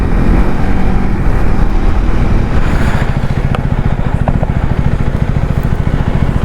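A KTM Duke 390 motorcycle riding on a main road in Chennai, a loud, continuous engine drone with a pulsing low rumble, mixed with strong wind buffeting close to the rider.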